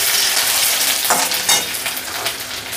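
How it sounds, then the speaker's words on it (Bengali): Cumin seeds and finely chopped ginger hit hot oil for potato chops, raising a loud, close, hissing sizzle that stays steady with a brief crackling burst partway through. "তো প্রথমে তেলে দিয়ে দেবো জিরে আর একদম কুচি কুচি আদা কুচিটা।"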